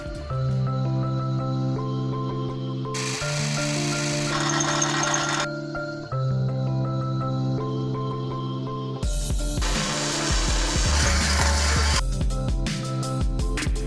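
A power drill drills holes for mounting an Exomotive Exocet front fender, whirring in repeated bursts, each run with a steady pitched motor hum, alternating with harsher grinding stretches as it bites into material.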